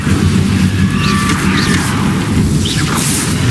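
An Incendio fire spell cast in Hogwarts Legacy, a loud sustained whooshing roar with a low booming rumble and bright crackling sparks, close and continuous.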